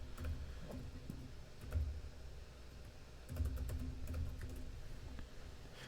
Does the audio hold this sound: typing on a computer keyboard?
yes